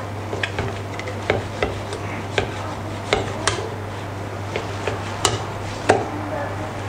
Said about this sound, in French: Donc là, on vient de couper notre collier.